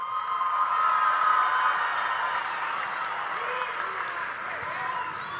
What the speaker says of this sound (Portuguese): receber com uma calorosa salva de palmas o Lula e